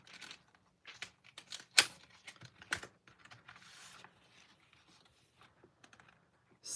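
Sparse crisp clicks, crinkles and a few sharp cracks as paper is worked through a die cutting machine for stamping crafts, close and quiet with gaps between sounds.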